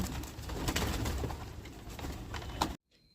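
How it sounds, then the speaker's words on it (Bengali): Pigeons coo and shuffle nearby on a balcony as they eat scattered wheat, a soft, continuous murmur of coos and light movement that cuts off abruptly near the end. "এদিকে পায়রাদের গম দিয়ে দিলাম ওরা এখানে খাক বেশ ভালোই লাগে দেখতে"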